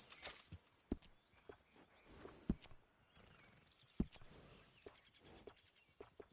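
Horse whinnies and clip-clopping hooves in the Red Dead Redemption 2 video game, a few sharp hoof thuds spaced across the stretch with a neigh near the start, fairly faint over soft ambient background.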